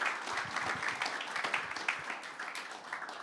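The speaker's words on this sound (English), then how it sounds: "give a round of applause for the two guys" Audience at a security conference stage applauds two speakers, a moderate, fairly close burst of clapping with individual claps audible in an uneven, lively rhythm.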